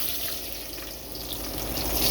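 Sliced onions hit hot oil in a pot of khichuri cooked alongside kala bhuna, giving a steady, close, hissing sizzle that holds evenly throughout.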